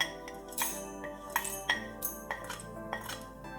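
Fried chana dal is tipped into a steel mixer grinder jar in a home kitchen. Light metallic clinks and small rattles sound close by in a short, irregular burst.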